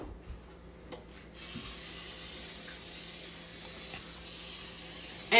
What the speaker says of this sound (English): we're going to spray these with cooking spray